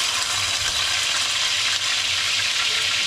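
Tuna frying in hot cooking oil in a home kitchen, a steady bright sizzle with spattering, moderately quiet and continuous with no talking.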